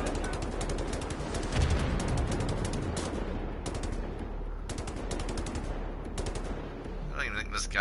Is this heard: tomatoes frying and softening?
no